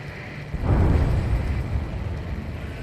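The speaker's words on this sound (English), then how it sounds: "A huge explosion just went off underwater." A huge underwater explosion in the video game Ace Combat 7 erupts as a deep, muffled low rumble that swells and lingers for a couple of seconds over steady game background noise.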